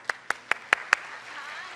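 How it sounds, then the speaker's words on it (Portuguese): Five sharp, evenly spaced hand claps ring out close and loud in a church celebration service, then fade into quiet room murmur. "Dá um salve de palmas, Dorothy"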